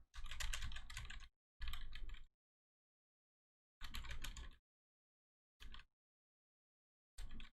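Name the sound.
computer keyboard clicks behind microphone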